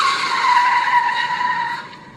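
A car skids in the Zombicide video game while running over zombies, a loud tire squeal sustained for about two seconds before fading.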